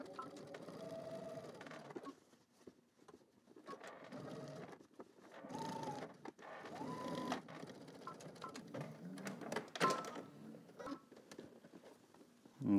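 A sewing machine runs in bursts as it stitches garment lining, whirring fairly quietly at a steady pace with short pauses between runs and a few clicks.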